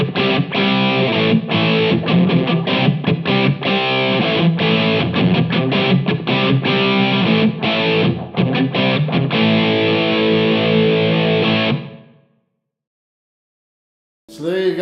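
Electric guitar played through a Boss EH-2 Enhancer pedal on a distortion channel, loud and continuous with rhythmic strummed chords, stopping abruptly near the end before a brief burst returns.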